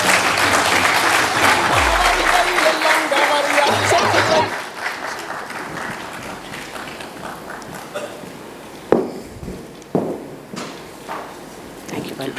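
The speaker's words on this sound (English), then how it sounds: "Can we have a huge round of applause?" At the IESA AI Summit 2023, an audience gives a round of applause during an award felicitation on stage. The clapping is brisk and full for about four seconds, then dies away, leaving a few scattered thumps and light footsteps in a quieter room.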